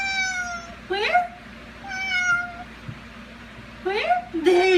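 A cat meows several times with rising, drawn-out calls, up close over a low steady hum while someone talks to it softly between the cries.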